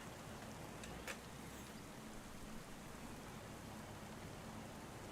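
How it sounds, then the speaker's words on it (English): Rain pours in Farming Simulator as a faint, even hiss of falling water with a couple of brief crackles, steady throughout and heard alone with no talking. "but it is raining."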